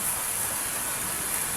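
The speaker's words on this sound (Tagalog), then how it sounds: "Napakalakas na ng hangin," Strong wind with rain sweeps through a bamboo grove as a steady, loud, broadband rushing hiss, with no voices.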